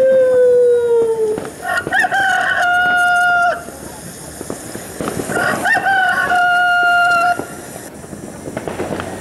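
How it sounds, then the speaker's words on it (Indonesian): A rooster crowing loudly, two long drawn-out cock-a-doodle-doo calls in close succession over a busy background rumble, part of a stage performance of a Cinderella story. "sang ayam berkokok"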